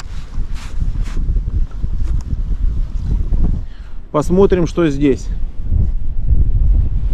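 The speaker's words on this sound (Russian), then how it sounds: "Сильный ветер поднялся." Strong, steady wind buffets the microphone with a low roar at the Veselovskoye reservoir in winter, and someone speaks briefly in the middle.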